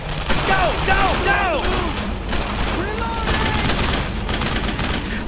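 A WWII infantry battle in a Brothers in Arms mission set in June 1944 crackles with dense rifle and machine-gun fire, loud and continuous, with whizzing ricochet-like sweeps early on and steady battle din throughout.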